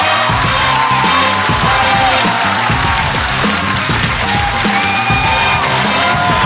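Studio audience at a Russian comedy show roaring with loud, continuous applause mixed with yelling, whooping and cheering that fills the room without pause.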